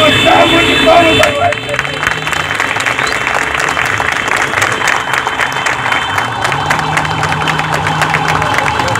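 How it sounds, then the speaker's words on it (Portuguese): Applause from mourners at the burial of a municipal guard in Varjota, a sustained crowd clapping under a loudspeaker voice, with murmuring and scattered cheers throughout. "Uma salva de palmas da"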